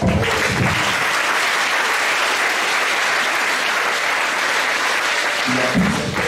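A church congregation claps loudly together during a French-language sermon, a dense, sustained burst of applause filling the room for several seconds before tapering off at the end.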